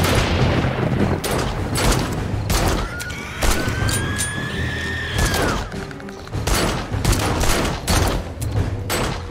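Rifle gunfire in the video game 7 Days to Die: a rapid series of sharp, loud shots echoing over a dense, noisy battle background, with a whining tone sweeping through the middle.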